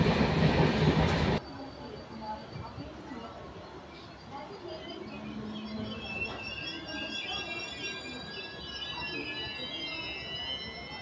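The Chandigarh-Madurai SF express rolls along with a steady rumble and rhythmic clatter of wheels on rail, heard from on board, after a brief louder burst at the start.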